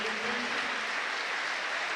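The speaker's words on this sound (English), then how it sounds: "Gets a nice round of applause from those here in the Derek Pavis stand" Football fans in the Derek Pavis stand at a Notts County match against Chorley applaud a substituted player, a steady wash of crowd clapping heard from inside the stadium, with a brief voice at the very start.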